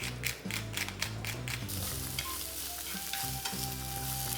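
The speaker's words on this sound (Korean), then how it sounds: "양파를 볶은 뒤 양배추를 넣어주세요. 그리고 여기에 소금을 약간 넣고 볶아주세요." Onion and cabbage stir-frying with salt in a pan, a steady sizzle with clattering stirs and scraping up close, backed by light background music.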